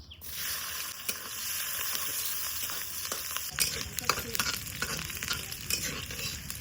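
Dried chili and garlic cloves fry in hot oil in a pan in a village kitchen, giving a steady close sizzle broken by scraping stir strokes.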